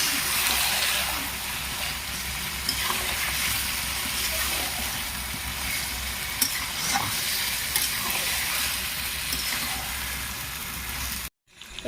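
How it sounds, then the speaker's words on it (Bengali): Chicken pieces frying in spiced curry masala for a Bengali chicken curry, a steady loud sizzle with scraping stirring throughout, close and uninterrupted until a brief cutoff near the end. "এবার মশলার উপরে দিয়ে দিচ্ছি মাংস।"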